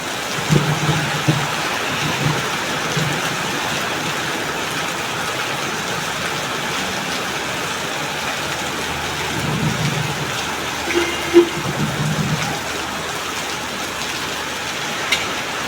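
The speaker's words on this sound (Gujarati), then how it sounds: "ફૂલ વરસાદ ચાલુ થઈ ગયો" Heavy rain pours steadily throughout, a dense continuous hiss with a few low rumbles and louder spatters toward the end.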